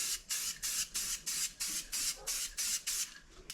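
A spray paint base coat goes onto a fabric book in about ten short, evenly spaced bursts of hissing spray, close and clear, with no talking.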